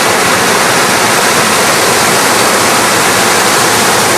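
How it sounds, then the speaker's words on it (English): A brook rushes steadily along the Cascade Falls trail, a feeder stream of Big Cascade Falls, giving a loud, continuous broadband wash of water with no voices over it. "And this is the brook, the other major brook on this trail that feeds Big Cascade Falls"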